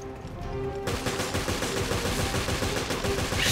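Rapid gunfire in the video game Resident Evil: Revelations, with dense repeated shots in quick succession over a game soundtrack, loud and continuous after a brief quieter opening.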